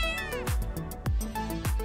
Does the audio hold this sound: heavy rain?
no